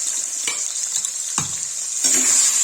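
Onions hitting hot oil in a pan for a Kashmiri rajma and turnip curry, giving a steady close sizzle and frying hiss with a couple of sharp stirring clinks along the way.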